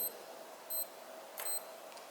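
Naviforce NF9133 digital watch gives short, high electronic beeps on button presses, two or three brief chirps spaced apart over a quiet background.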